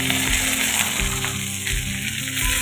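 Onion, garlic and curry leaves frying in oil for a tamarind curry, a steady close sizzle with faint scraping of a spoon, running continuously.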